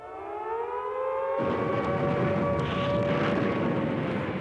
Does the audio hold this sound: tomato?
no